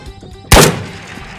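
A single loud, close blast or gunshot from a video-game firefight with grenades, a sharp burst that decays into a rumbling tail, in Ghost of Tabor.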